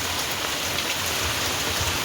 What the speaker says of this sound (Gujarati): ફૂલમ ફૂલ હો ભાઈ વરસાદ